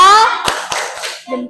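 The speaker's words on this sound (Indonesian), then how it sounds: "kita kasih tepuk hebat dulu buat kelompok 1" A primary school class claps for group 1 after its presentation, a brief patterned burst of a few sharp claps alongside children's voices.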